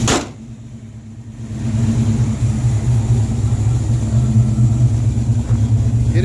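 A Mustang fitted with custom black tailpipes runs with the hood closed, its engine giving a steady, loud, low exhaust rumble that swells a little after the first second and then holds without talk.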